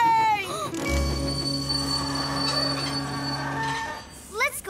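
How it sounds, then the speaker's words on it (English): A cartoon train brakes to a halt, its wheels letting out a long, loud, steady metallic squeal that fades out near the end, with brief voice-like chirps before and after. "Stop the train!"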